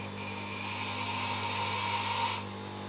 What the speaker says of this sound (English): And now I will just grind the edge,